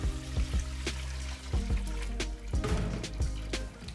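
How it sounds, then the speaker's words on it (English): Cold water sloshes and splashes in a large pot as Black Sea anchovies are washed by hand, giving close, irregular bursts of liquid churning and dripping with no talk. "It needs to be washed 3 to 4 times with cold water."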